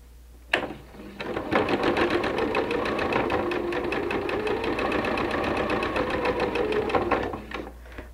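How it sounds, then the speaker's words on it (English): A sewing machine stitches a quarter-inch seam on quilting pinwheel pieces, starting with a thump and then running in a fast, steady, close mechanical rattle for about six seconds before stopping. "Let's take that to the sewing machine, and we're going to sew a quarter inch down there"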